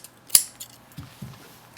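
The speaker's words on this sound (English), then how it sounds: "We're just going to use regular scissors and we're just going to cut this." Ordinary scissors cut into carpet with a single sharp metallic snip, followed by a few soft, dull crunches of blades working through the fibers, close and quiet.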